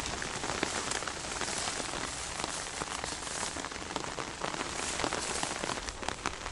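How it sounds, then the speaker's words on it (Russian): Heavy summer rain pours down in a steady, dense hiss with constant crackling patter of drops, loud and close throughout, with no voices. "О, все, пошел сильный дождь. Дождь идет сильнейший."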